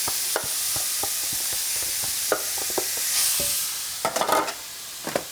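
Beef stir-frying with garlic and sesame oil, with a steady hiss of sizzling broken by scattered scrapes and stirring clatters, a busier burst of stirring near the end, no talk.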